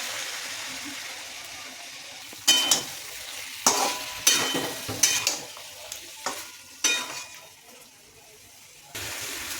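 Spice paste being stir-fried with fried potato and pointed gourd in a pan for a vegetarian dum curry: a low steady sizzle broken by repeated loud scraping stirs in bursts, close up, with no talking.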